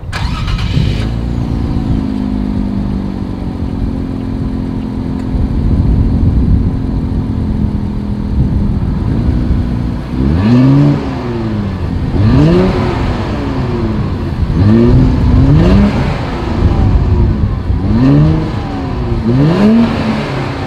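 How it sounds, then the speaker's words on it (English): A 2020 Infiniti Q60 Red Sport 400 exhaust idles with a low, steady rumble, then blips through a series of sharp revs that rise and fall repeatedly. "here is that exhaust clip."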